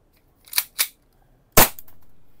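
Hi-Capa gas blowback airsoft pistol fired in three sharp, close cracks: two quick shots close together, a pause, then a louder third shot with a brief trailing hiss.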